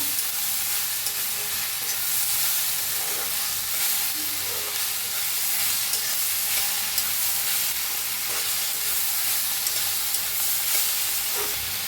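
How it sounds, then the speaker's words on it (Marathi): Paneer and potato masala roasting in a pan, a steady hissing sizzle with occasional stirring scrapes, no talk. "मीठ टाकण्याने लगेच भाजतं या मिक्स करूया"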